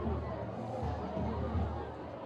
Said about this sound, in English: Another great crowd on hand tonight for the Raptor Nation.